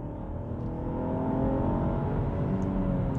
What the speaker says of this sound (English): The engine, even when you rev it hard,